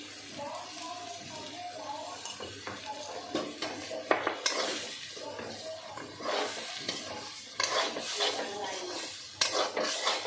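Whole eggplants fried with neem leaves in oil are stirred in a pan, giving repeated metallic clinks and scrapes of the spatula over a light sizzle, close up, with some soft voice in the background.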